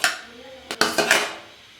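Cooked rice being layered into a pot for chicken roast biryani, with a few close metallic clinks and scrapes of a utensil against the pot.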